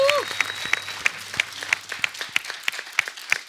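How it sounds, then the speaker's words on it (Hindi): Studio audience applause on The Kapil Sharma Show: a steady, even rhythm of loud group claps, roughly three per second, filling the room and running throughout. "एक बार मैं आप सबसे कहूंगा जोरदार तालियां इन लोगों के लिए।"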